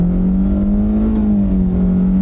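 A car pulls hard away from a standstill on a small drag strip, its engine note holding a steady, loud drone that rises slightly and settles, close and unbroken with no voices.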